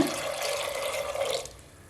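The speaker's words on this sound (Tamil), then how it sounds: "இப்போ வேர்க்கடலை மூழ்கிற அளவுக்கு தண்ணி விட்டுக்கலாங்க" Water poured into a pot of soaked peanuts, a close, steady splashing stream that stops near the end.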